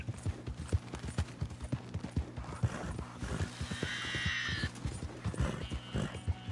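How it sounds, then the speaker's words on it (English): Hooves of a horse in Red Dead Redemption 2 clip-clop in a steady walking rhythm, close and clear, with a whinny partway through. "Vamos, mi valiente corcel."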